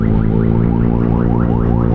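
A loud, steady electronic horn of a Vespa scooter blares continuously, a buzzy sustained tone with a regular warbling rhythm, close and alone.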